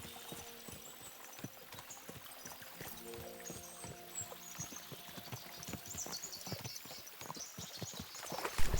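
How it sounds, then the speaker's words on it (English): Horses' hooves beat in a steady, rhythmic patter while riders travel in the video game Kingdom Come: Deliverance II, with faint sustained musical tones underneath and no speech. "As soon as we cross the stream, we'll give the horses a gallop again."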